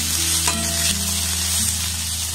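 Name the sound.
chopped onion sizzling in hot oil with cumin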